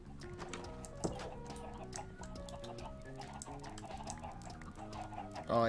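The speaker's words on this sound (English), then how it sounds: "the chickens are coming." Chickens cluck softly in a Minecraft-style block survival game, short repeated bird calls layered over quiet background music, faint and steady throughout.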